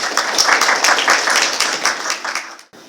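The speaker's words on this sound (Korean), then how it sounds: "먼저 조혜진 리더님을 큰 박수로 맞이해 주시면 감사하겠습니다" An audience at a corporate cybersecurity workshop applauds to welcome an LG Electronics CTO leader. The clapping is dense and steady, then stops abruptly near the end, leaving near silence.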